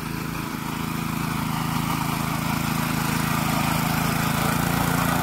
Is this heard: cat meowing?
no